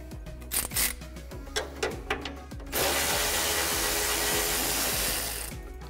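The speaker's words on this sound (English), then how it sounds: "Just use a half-inch socket to remove the bolt." A half-inch socket wrench backs out a radiator bolt on a 1965-1966 Mustang, a quick run of rapid ratcheting clicks followed by a sustained whirring spin that fades near the end.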